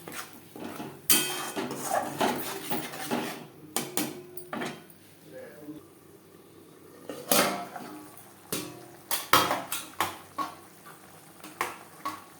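Spice masala for chana masala is stirred in a pot over a medium flame, with a spoon clanking and scraping against the metal in irregular bursts separated by short quiet gaps.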